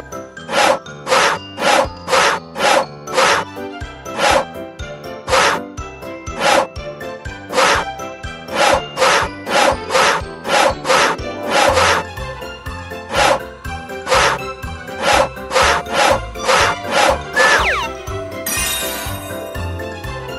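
Sawing wood in a Pororo carpenter children's video game produces a long series of crisp, rhythmic back-and-forth stroke effects, loud and close, with a bright chime flourish near the end.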